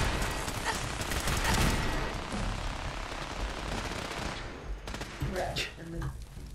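Turrets in the video game Fallout 4 unleash sustained rapid automatic gunfire, a dense continuous barrage that thins toward the end into separate bursts and impacts, loud and close.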